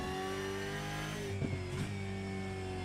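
An onboard V8 race car engine at the Red Bull Ring holds a loud, steady high-revving drone, with two brief pitch dips as it shifts or lifts, close and with no talk over it.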